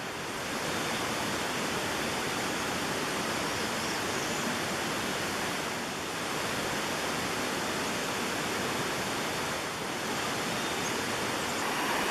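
Bog River Falls, a small but loud waterfall rushing around little islands in the Adirondacks, roars as a dense, steady wash of water noise filling the whole stretch without letup.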